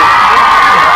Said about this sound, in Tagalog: sabay sigaw yung mga tao